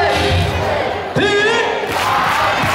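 Lamigo baseball farewell-game crowd chanting together in support of a batter, a dense, loud massed roar of voices with a rising cheer partway through.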